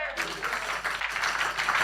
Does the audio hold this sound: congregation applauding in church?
yes